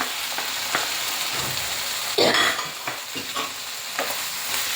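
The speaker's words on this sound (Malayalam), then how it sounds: "ഇനി നമുക്കിതിലോട്ട് തക്കാളി ഇട്ട് കൊടുക്കാം" Tomatoes are stirred into frying onions and masala for chicken kurma. A spoon scrapes and stirs over a continuous close sizzle, with a brighter hiss as the tomatoes hit the hot pan.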